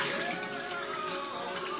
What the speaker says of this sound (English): I'm going to drain this water off because it got all that starch and stuff in it